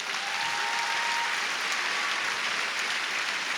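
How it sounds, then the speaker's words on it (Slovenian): Crowd applause at the opening of the Ilirija sports centre beside its new swimming pool, a dense, continuous wash of many hands clapping, sustained and even, heard from a short distance in a reverberant hall. "dajmo še en aplavz."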